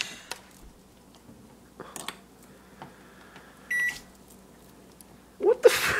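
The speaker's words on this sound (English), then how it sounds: "we're microwaving tinfoil" A microwave oven heating tinfoil runs with a low hum, a few clicks and a beep, then a sharp crackling burst of sparking near the end, close by.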